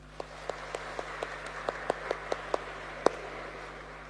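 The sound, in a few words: church congregation applauding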